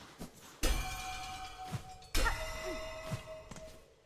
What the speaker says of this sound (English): Bells.